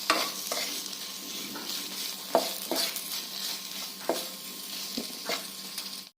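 Chili and masala mixture frying in a couple of drops of oil in a pan, a steady close sizzle with occasional stirring scrapes and soft clicks throughout, no voices.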